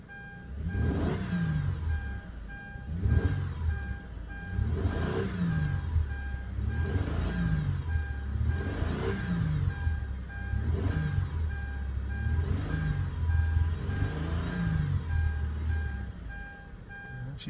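A 2005 Kia Amanti with a 3.5 engine and 147,686 miles idles steadily close to the mic, its low drone pulsing in a regular cycle about every two seconds and running alone without talk throughout.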